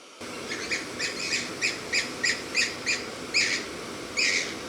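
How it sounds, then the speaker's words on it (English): Birds call repeatedly in New Zealand bush in the Waitākere Ranges near a campsite, giving a steady series of about a dozen short, bright, double-toned chirps in even rhythm, moderately close and loud, with no talking. "New Zealand certainly has some crazy bird calls."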